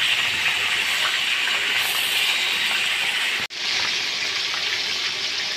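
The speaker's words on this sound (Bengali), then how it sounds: "এপিট ওপিট সুন্দর করে ভেজে নিব" Desi chicken pieces fry in a pan, a steady close sizzle and hiss that breaks off briefly partway through, then resumes, with no voices.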